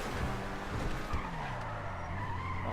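A car in a racing video game skids hard, with a sustained loud tire screech and rising and falling engine tones running continuously throughout.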